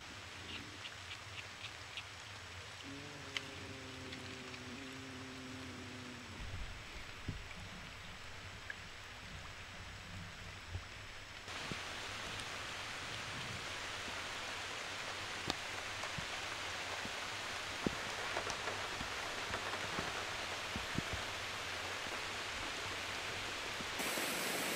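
Heavy rain storm hammering a car during a wild night of car camping, a dense steady roar of drops on the roof and glass that swells louder partway through, with scattered sharper drips and no talking.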